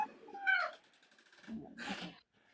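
A cat gives two close, drawn-out, plaintive meows in a quiet room, the second louder and more strained, with a short pause between them.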